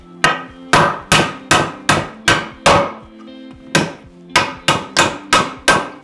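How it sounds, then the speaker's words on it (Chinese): Steel hammer striking a nail to drive it back through a piece of reclaimed wood held in a vise, a dozen sharp ringing blows in a steady rhythm with a short pause midway, close and loud with no talk. "把它敲到背面去。"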